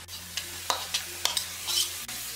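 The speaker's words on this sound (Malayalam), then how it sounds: "ഈ മിക്സ് ചെയ്ത് വെച്ചിരിക്കുന്ന ചിക്കൻ പീസസ് ഇതിലേക്ക് ഇട്ടിട്ട് ഇളക്കി കൊടുക്കാം" Marinated chicken pieces for a Kerala-style naadan chicken varattu are stirred into hot oil in a pan, with a steady close sizzle broken by several sharp scraping strokes of the spoon.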